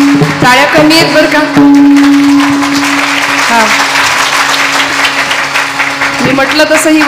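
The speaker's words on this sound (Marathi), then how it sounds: "टाळ्या कमी आहेत बरं का" Applause from the audience at a devotional kirtan, steady clapping spread through the whole stretch and mixed with a sustained harmonium-like tone and a singing or speaking voice.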